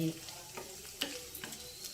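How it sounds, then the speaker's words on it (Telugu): Dried prawns and okra fry in a pan with a close, steady sizzle and a few light stirring scrapes, heard alone. "రొయ్యలు కొంచెం ఎర్రగా వేగాలండి."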